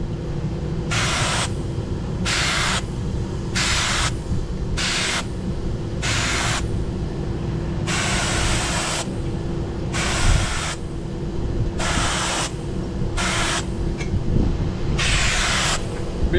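Spray gun bursts of Awlcraft 2000 paint during spot painting, a dozen repeated hissing sprays of one to two seconds each with short pauses, steady and close over a constant low machinery rumble.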